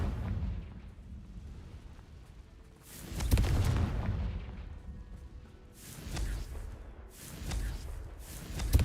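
Booming explosions from the Confringo blasting spell in a Harry Potter video game, several deep rumbling blasts with whooshing tails spaced a few seconds apart, fairly loud with no talk.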